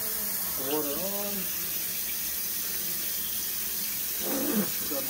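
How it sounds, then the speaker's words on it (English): Water from a sink faucet pours in a constant rushing stream while fish is cleaned, near and steady, with a voice briefly speaking over it. "So what I do now is I'll turn the water on."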